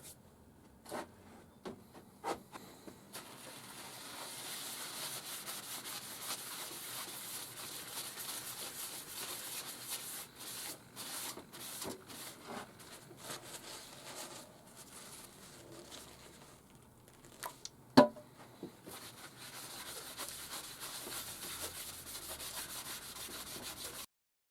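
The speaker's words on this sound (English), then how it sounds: "Now for some sanding sealer on there." Sanding sealer rubbed by hand onto a small wooden ring box, a quiet, steady scuffing and patter that runs through most of the stretch, broken by a few sharp knocks near the end.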